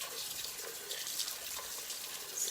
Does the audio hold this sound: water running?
yes